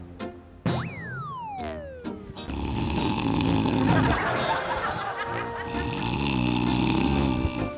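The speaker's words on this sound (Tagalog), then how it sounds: "Hindi nga ako makatulog dahil sa hilik mo." A person snoring in a domestic bedroom scene, heard as a few loud, exaggerated comic snores with rising and falling tones, followed by a longer stretch of busy, noisy background.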